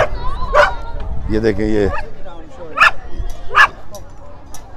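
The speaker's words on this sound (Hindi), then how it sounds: "2 कुत्ते आपस में लड़ पड़े" Two dogs scuffle at an outdoor family festival in Bradford, UK, with sharp barks, yips and whimpers in short bursts close by, while someone talks over them.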